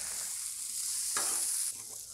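Pierogies frying in butter on a griddle give off a steady close sizzle, with a brief louder burst of crackling as they are stirred or moved partway through.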